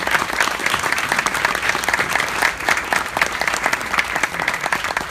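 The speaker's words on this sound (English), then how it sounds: "I just want us all to just give her a round of applause for what she's done for us." Audience at a 2015 kickoff party gives a round of applause, dense sustained clapping from many hands at a steady level throughout, with a faint murmur of the crowd underneath.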